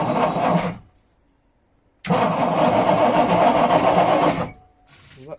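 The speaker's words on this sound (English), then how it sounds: "Starter doesn't sound great, but turned over and compression sounded even." Starter on a 1980s Sunseeker boat engine cranks loudly in two bursts, about a second and then over two seconds, with the engine turning over steadily and evenly between pauses, close and alone.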